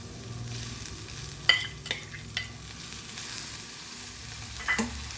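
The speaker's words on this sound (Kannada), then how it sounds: "1 ಈರುಳ್ಳಿ ಸಣ್ಣ ಹೆಚ್ಚಿದ್ದು ಹಾಕಿ" Finely chopped onion frying in a couple of spoons of oil in a pan for dal fry, a soft steady sizzle broken by several sharp spatula scrapes and clinks against the pan.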